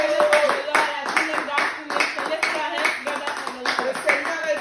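A church congregation applauds loudly, dense rhythmic clapping from many hands close around, with voices calling out over it.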